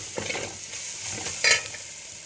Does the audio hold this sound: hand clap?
no